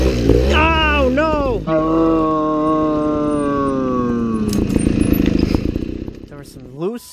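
A trials dirt bike engine revs and strains while climbing over rocks in a trials section, its pitch rising and falling close by, with voices talking over it.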